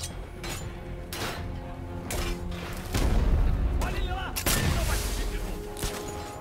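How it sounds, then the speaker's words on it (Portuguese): Grenade blasts and gunfire in Batman: Arkham Knight, repeated booming impacts and shots with a heavier explosion midway, loud amid game music and effects, with talk mixed in. "Granada!"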